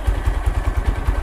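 A Honda XRM125 motorcycle engine with a 57mm block runs close by, a quiet, even low thumping pulse with a steady rhythm and no talking.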